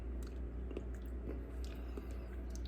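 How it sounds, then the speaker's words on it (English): Quiet, close chewing of a bite of soft shell crab, soft wet squishy mastication repeating over a few seconds against a low hum. "tasted it a little bit"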